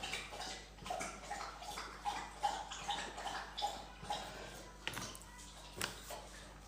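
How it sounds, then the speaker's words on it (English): A pet laps water loudly and rhythmically from a bowl, a steady series of wet slurping splashes close by, with a few louder knocks partway through. "Bobby, you're drinking water so loud."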